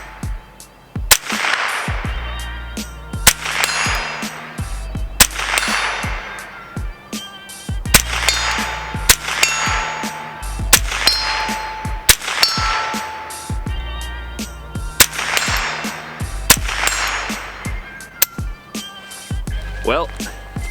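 Repeated shots from a Thompson Center TCR-22 rifle ringing off steel targets outdoors on a bright but nasty day, sharp cracks each followed by a metallic clang, spaced every second or two, with a voice talking between them.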